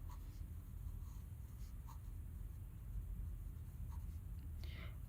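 Chalk or pen scratches across a board in short strokes and taps during a physics lesson on sound, faint against a steady low room hum, with a few brief squeaky marks near the end.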